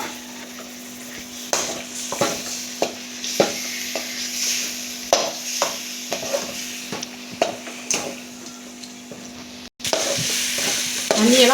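Chicken with tomato sizzling steadily in a pan for a gravy, with repeated scraping and knocking strokes of a stirring utensil against the pan, up close, and a louder sizzle burst near the end.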